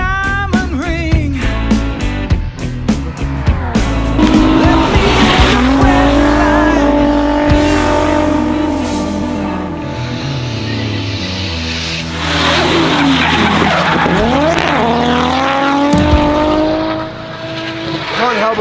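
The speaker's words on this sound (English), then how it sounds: "It's the first time I've enjoyed drifting in a long time" A drift car, billed as the most advanced in the world, revs loudly and close, its tires squealing in long, wavering screeches as it slides through continuous drifts.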